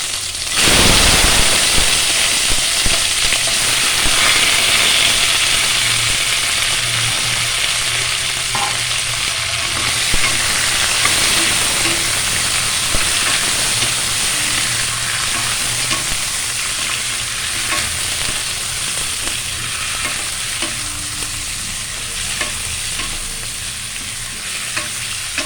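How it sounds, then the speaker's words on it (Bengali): About 600 grams of washed mutton drops into hot oil in a pan and sizzles loudly and continuously, with stirring scrapes now and then as the frying gradually settles down; no one talks. "এবার মটনটা তেলে ভাজতে দেব"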